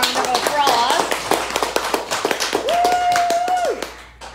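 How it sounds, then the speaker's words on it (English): A small audience claps at the end of a summer internship presentation, with distinct, fairly close hand claps in an uneven rhythm, mixed with voices talking and a whoop over the applause. "Let's give her a round of applause."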